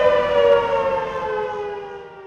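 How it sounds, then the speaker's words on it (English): Outdoor tornado warning siren wailing alone, a loud sustained mechanical tone that slowly drifts downward in pitch as it winds down. "outdoor warning sirens,"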